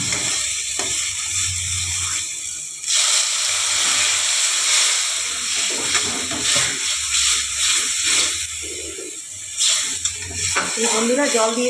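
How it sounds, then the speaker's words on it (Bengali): Water poured into a hot pan of spiced fish masala for a pomfret mustard-poppy seed curry sets off a loud, steady sizzling hiss that begins a few seconds in and continues throughout, with a voice faintly audible over it. "জল দিয়ে দিলাম"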